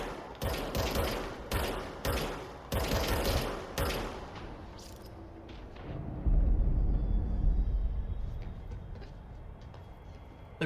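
Rapid bursts of gunfire from the service weapon in the video game Control, loud sharp volleys in the first half, giving way to a heavy rumbling impact and lingering low noise.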